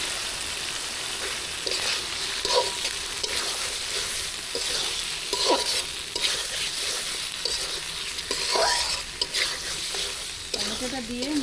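Chopped tomatoes fry with cooked-down spice paste in a pan for a sarputi fish curry. A steady close sizzle runs throughout, broken by periodic scraping stirs of a spatula against the pan.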